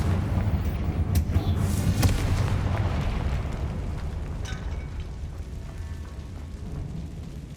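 A Confringo spell explosion in Hogwarts Legacy erupts as a deep, rumbling blast with crackling bursts early on, then fades into a sustained low roar that slowly settles, loud and close with no speech.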